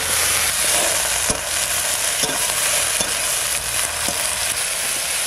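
Sour fruits going into hot oil with mustard seeds and chilli, a loud, even hiss of frying with occasional sharp crackles and pops, close up and with no voices.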